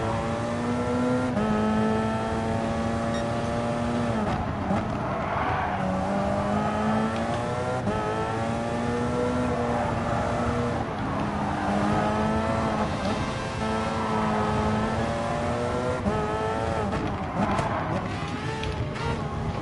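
A Porsche 919 Le Mans race car drives steadily with a continuous high-pitched engine drone that rises and falls through repeated gear changes and corners, loud and up close with no talking.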